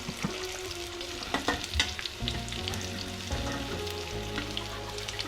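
Chopped onion sizzles and spits as it fries in hot oil for an Ayurvedic drumstick-leaf vegetable dish, a steady close crackle with occasional stirring scrapes and no voices.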